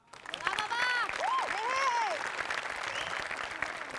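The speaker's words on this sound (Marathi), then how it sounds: "सगळ्यात आधी आपण टाळ्या वाजवूया बाबासाठी." Studio audience applauding on a Marathi comedy show, broad steady clapping swelling in and holding throughout, with voices talking and exclaiming over it.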